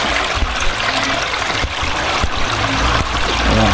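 Mountain stream water flows toward a lake, a steady close rushing trickle with a few soft knocks and bumps and no voices.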